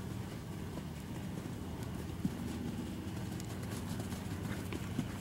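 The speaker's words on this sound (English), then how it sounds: "just bring him up a little bit and try start your canter again from there" A horse canters in a riding arena, its hoofbeats a faint, steady muffled rhythm under a constant background hum, with a couple of slightly sharper thuds.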